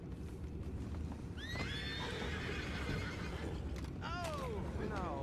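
Horses in the video game Red Dead Redemption 2 whinny loudly in two or three rising-and-falling calls, over a dense bed of clip-clopping hooves and background noise.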